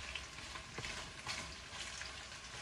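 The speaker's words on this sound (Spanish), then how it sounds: "Voy a echarle la cebolla." Onion fries with beef steak in a pan, making a soft, continuous crackling sizzle with faint stirring scrapes, quiet and close, with no talking.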